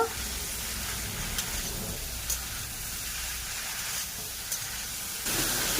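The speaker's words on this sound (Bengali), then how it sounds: "কেটে রাখা ভেন্ডি আর আলু দেব খেয়ে কিছুক্ষণ কষে নেব" Okra and potatoes sautéing in spices, giving a steady, close sizzling hiss that runs throughout with a few faint stirring scrapes.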